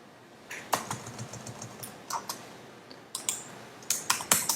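Keys clatter on a computer keyboard in short bursts of quick taps with brief pauses, close and clear in a quiet room.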